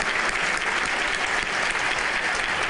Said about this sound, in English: Everybody give them a round of applause for sharing those with us.